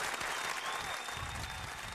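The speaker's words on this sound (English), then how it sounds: "a round of applause" A studio audience applauds a talk show guest, a full, continuous wash of clapping hands at steady loudness for a couple of seconds, with no speech on top.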